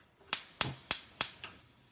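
A gas stove burner being lit in a home kitchen, the piezo igniter snapping four times in a quick, even series of sharp, loud clicks, each about a third of a second apart, with no talking.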